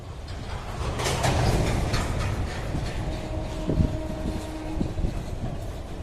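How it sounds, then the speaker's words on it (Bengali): An up goods train passes near Bandel Junction with a continuous heavy rumble of wagons and rhythmic wheel clatter close by, plus a faint sustained horn or brake whine in the second half. "এটা দেখছেন গুডস ট্রেন পাসিং নেয়ার ব্যান্ডেল।"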